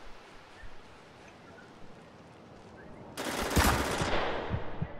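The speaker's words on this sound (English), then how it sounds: "Whoa, who's shooting me?" Sustained automatic gunfire in the video game Spec Ops The Line, starting as a loud, dense burst about two-thirds of the way in after a stretch of low ambient background.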